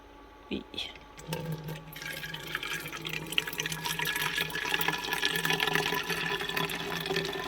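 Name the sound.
pouring coffee into a bottle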